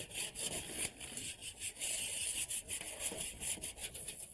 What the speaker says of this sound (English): Now that scraping is done, it's time to do the sanding